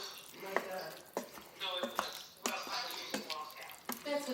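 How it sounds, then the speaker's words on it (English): A cup of water goes into an Instant Pot while taco filling is being made: quiet, close splashing with small clinks and drips, and a voice talking over it. "You're going to put one cup of water in there, right?"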